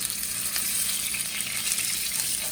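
Ahi tuna sears in a hot pan with a steady, dense sizzle that holds at even loudness throughout, with no talking over it.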